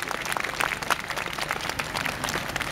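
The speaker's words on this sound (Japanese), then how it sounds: "もう一度大きな拍手でお送りください" A crowd at a 2012 Spring Festival entertainment show applauds warmly after a lion dance by an alumni martial arts troupe. The clapping is dense and steady with a few sharper individual claps.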